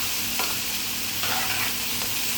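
Mint mixture with salt stirred in a pan, a steady close hiss of sizzling with faint scraping strokes throughout, no voices.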